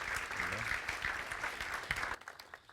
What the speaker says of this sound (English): please applaud as we welcome Mayor Greg Fisher